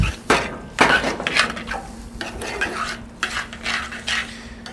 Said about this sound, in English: We're going to go ahead and add the pasta to this. Mix it in.